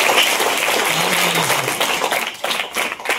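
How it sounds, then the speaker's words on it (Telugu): An audience claps for the dance teachers at a school notebook and stationery distribution event, a dense, steady patter of many hands over the whole stretch with a faint voice briefly underneath. "వాళ్ళందరికీ కూడా మీరు ఒకసారి క్లాప్స్ కొట్టారు."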